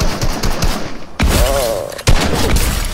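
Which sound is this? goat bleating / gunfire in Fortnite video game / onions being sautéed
gunfire in Fortnite video game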